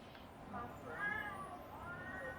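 Cats meow in The Sims video game, a few quiet, rising and falling calls heard faintly over a soft background.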